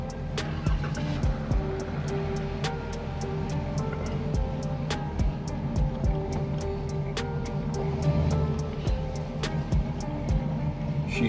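A Box Chevy car engine hums and rumbles steadily from inside the cabin while driving, with a faint regular ticking over the low drone throughout.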